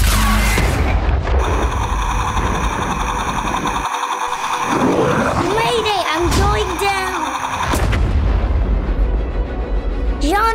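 Toy weapon fire during pretend play, loud booming blasts and explosive bursts mixed with whooshing effects and a voice in the middle.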